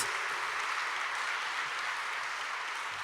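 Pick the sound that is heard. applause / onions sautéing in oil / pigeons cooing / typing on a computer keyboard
applause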